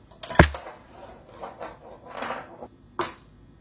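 A homemade coaster snare drum filled with basmati rice is struck by a marble, giving one sharp close knock followed by soft rattling taps and a second crisp hit near the end.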